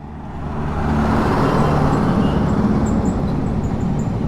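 A Yamaha XSR 155 motorcycle engine runs at minimum speed in fourth gear, giving a steady, dense low rumble that holds close and loud throughout.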